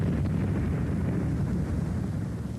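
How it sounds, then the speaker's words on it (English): A high-explosive shell hits its target on archival wartime film, a dense roaring blast of noise that fills the whole short stretch, loud and sustained before tapering slightly at the end. "The camera was turning at the moment the target was hit by high explosives."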